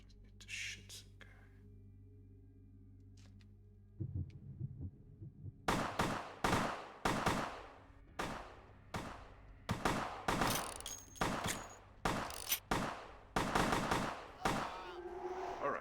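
Gunfire in Vampire: The Masquerade – Bloodlines: a quiet lead-in gives way to a loud, sharp series of about a dozen shots in an irregular rhythm, each crack close and punchy with a short tail.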